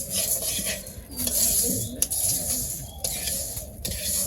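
A pot of khichuri being stirred in a village kitchen, with a steady scraping of the spoon against the pot and a soft sizzle underneath, close and continuous with no talk.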